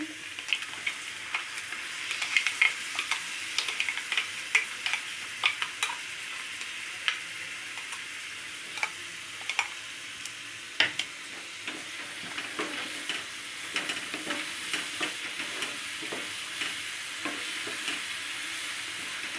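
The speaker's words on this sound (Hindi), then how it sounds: "टमाटर भी अच्छे से भून लेंगे" Tomatoes fry with spices in a hot pan in a steady, close sizzle, broken by frequent light clicks and scrapes of stirring, with no voices.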